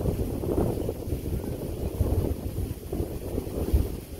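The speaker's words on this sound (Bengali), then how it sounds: "অনেক ঠান্ডা খুব বাতাস ছাড়ছে" Strong, cold wind gusts outdoors ahead of a storm, buffeting the microphone with a rough, continuous rumble that swells and eases over a few seconds.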